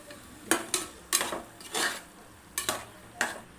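Tomatoes sauté with masala paste and yogurt in a pan for vegetable biryani, with a series of distinct metal clanks and scrapes from stirring over a faint, low sizzle.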